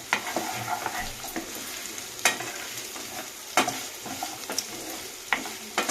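Chopped potatoes and fried onions stirred in a hot pan, a soft continuous sizzle broken by frequent scraping strokes and sharp clinks of the spatula, close by.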